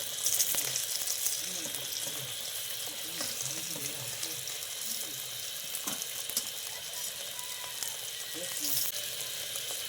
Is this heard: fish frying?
yes